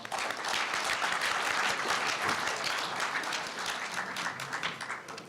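An audience applauds at the 70th-anniversary founding ceremony of the Korea University newspaper, a thick, sustained round of clapping that swells early and tapers slightly toward the end.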